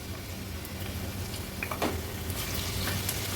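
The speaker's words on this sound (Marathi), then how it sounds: "तेल गरम होत आलं की लसणाच्या पाकळ्या आणि कांदा आपण फोडणीला घालूया।" Garlic cloves and onion frying in hot oil in a pot, a steady soft sizzle running throughout with a faint crackle near the middle, close and fairly quiet with no voices.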